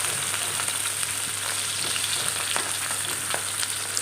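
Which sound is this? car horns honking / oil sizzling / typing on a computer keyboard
oil sizzling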